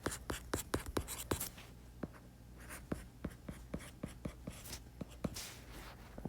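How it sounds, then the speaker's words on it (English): A pen or pencil writing out a math function on paper, with quick, close scratching strokes and taps in an irregular rhythm, busy at first and then more spaced out. "I'm going to write it down for neatness."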